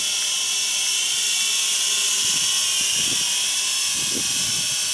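An XK X300 quadcopter takes off and hovers with a continuous high-pitched whine of spinning propellers. It sits loud and close, with faint low mechanical knocks underneath.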